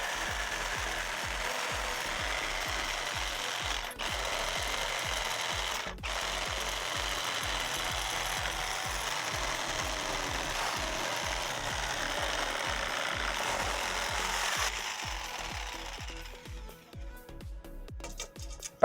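Wood for a wooden towel rack is cut with a power saw that runs steadily with a fast, even mechanical chatter, then trails off near the end.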